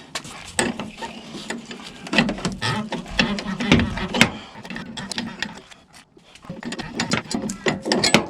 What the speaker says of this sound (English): you get the wrench to loosen the nut and you want to wiggle the nut back and forth as you undo it